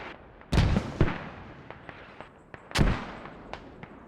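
Mortar rounds striking a position in a military video game, two heavy booming impacts a couple of seconds apart with smaller pops and crackles between them.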